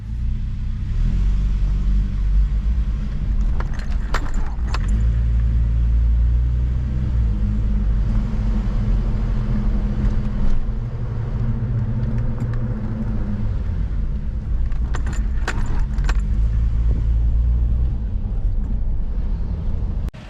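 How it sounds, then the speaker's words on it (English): A 4Runner with a 2.7-litre 3RZ-FE four-cylinder engine drives around the block after an oil pump gasket repair, its steady low engine rumble and interior drone continuous throughout, with gear changes and a few faint rattles. "I'm just gonna drive it around the block just to make sure it doesn't leak anymore."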